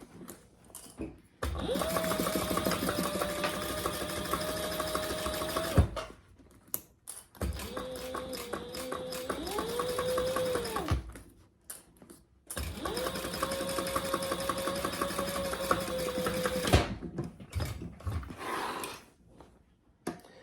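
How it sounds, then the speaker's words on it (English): A sewing machine top stitches a fabric bag in three long bursts of steady whirring, close and clear, separated by short pauses, with no talking. "And this is just a top stitching."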